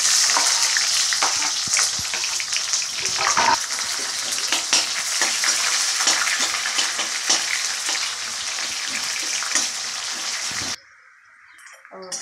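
Chopped onions frying in hot oil tempered with five-spice, for a brinjal and fish curry: a loud, continuous crackling sizzle with stirring, close by, cutting off sharply near the end.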